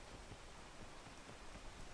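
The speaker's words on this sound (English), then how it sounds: "And I can wait for the rain." Steady rain falling in the climbing game Peak, a soft, even hiss of drops spread across the whole clip at low volume, with no voices.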